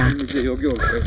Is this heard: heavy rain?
no